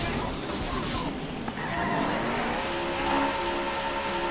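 Race car engines in the Daytona USA arcade racing game rev and drone at the start line, a continuous loud roar with rising pitch toward the end, with no talking over it.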